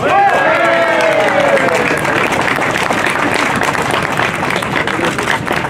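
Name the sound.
audience applauding a race driver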